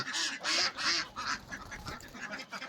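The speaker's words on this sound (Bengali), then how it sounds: "হাঁস আছে, মুরগি আছে।" Ducks quack repeatedly in a rural Bangladeshi village yard where ducks and chickens are kept, a run of loud nasal calls close by, then fading into softer background clucks and movement.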